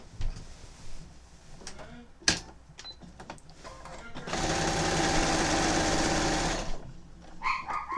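A sewing machine basting the edges of a quilt, running in a steady rapid whir for a couple of seconds after scattered handling clicks and knocks of fabric and tools.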